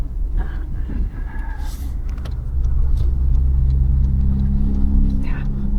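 Inside a 2026 Toyota Hilux pickup truck as it pulls away, a low engine rumble swells and holds steady while a voice speaks briefly over it.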